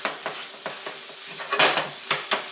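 Scrambled eggs cooking in a pan, a soft sizzle under several distinct scraping and stirring strokes of a utensil against the pan, close and fairly loud.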